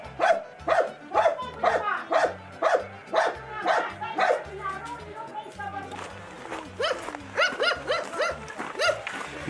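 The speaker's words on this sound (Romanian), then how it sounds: "Mă cam latră câinele, da." A dog barks repeatedly in a rural Romanian yard, sharp loud barks in quick bursts with some whimpering yips, while people talk over and between them.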